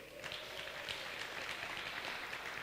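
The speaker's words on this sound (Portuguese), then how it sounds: "Vamos dar uma salva de palmas para a dona Nevilde?" A congregation applauds Dona Nevilde with a steady, dense wash of many hands clapping together. The sound is fairly soft and distant and continues evenly throughout.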